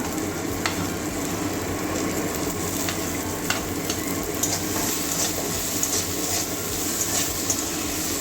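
Potatoes sizzling in a hot pan for a Bengali vendi posto dish, a continuous close frying hiss with a few faint clicks and scrapes of a utensil, no voices.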